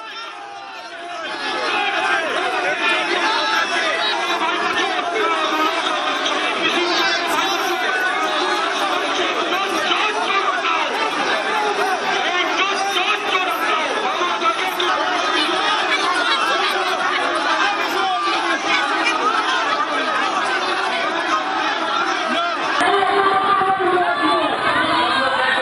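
A dense political crowd of TMC and BJP supporters at a rally, many voices chanting and shouting together in a steady, loud roar that carries unbroken throughout.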